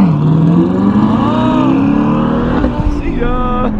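Sports car engine revving hard and accelerating at a car show in Pennsylvania, a loud rising then falling engine roar up close, with a brief shift-like change near the end and people's voices faintly mixed in.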